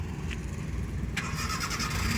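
A learner's car starting up during driving practice while reversing into a garage, the starter catching after about a second and the engine settling into a steady running hum.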